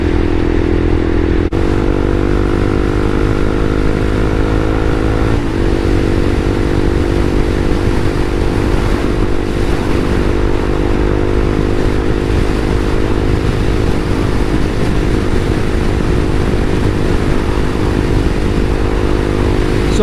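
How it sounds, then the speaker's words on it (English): Honda CBR300R motorcycle cruising in sixth gear on a sunny road to a state park lake, a steady, loud engine drone with constant pitch and heavy wind rush from the rider's position, no talking. "I'm in my highest gear right now. I'm in 6th gear."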